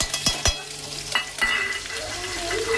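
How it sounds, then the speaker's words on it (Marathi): Garlic and chilli dropped into a sizzling pan of vada pav masala, with a few sharp stirring clicks at the start over a steady, close frying hiss. "आता टाकणार आहे लसूण। आता येणार आहे मिरची।"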